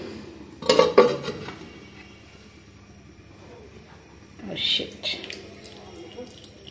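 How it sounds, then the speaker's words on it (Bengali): A lid clanks onto a cooking pot of thin fish and cauliflower curry, a sharp metallic knock near the start and another light clink a few seconds later, with quiet kitchen background between. "ভালো করে ফুটুক, ঢাকনা দিয়ে একটু ঢেকে দিই।"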